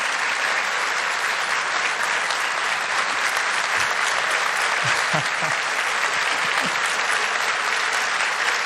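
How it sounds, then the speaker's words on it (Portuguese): Audience giving a round of applause for Caixa Econômica Federal employees at a live event with Bolsonaro, loud, continuous clapping filling the whole stretch, with a few scattered voices and cheers mixed in. "queria só uma salva de palmas para os funcionários da Caixa Econômica Federal"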